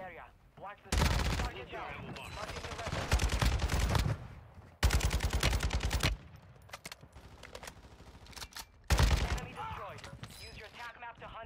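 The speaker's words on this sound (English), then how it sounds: "I'm being shot at here." Automatic gunfire in the Call of Duty Warzone video game, loud rattling bursts of several seconds each separated by short gaps, with players talking over and between them.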